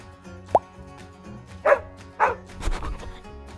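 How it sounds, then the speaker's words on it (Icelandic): A farm dog barks three or four times in short, evenly spaced, moderately loud woofs, heard alone after a quick pop. "Hundur."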